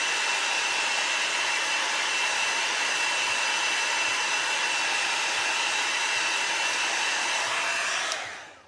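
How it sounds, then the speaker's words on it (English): A hair dryer blows with a steady, loud broadband whoosh and a faint high whine, cutting off abruptly near the end. "And then let's do a quick blow dry here. Hair dryer will work just as well."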